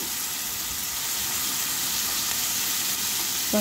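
Onions, green chillies and curry leaves fry in oil with a loud, continuous broadband sizzle that holds steady throughout, and no voices.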